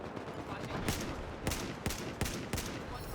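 Gunfire in the video game Battlefield 4 comes as a series of loud, evenly spaced sharp shots, with softer rapid firing between them and a voice talking over the top.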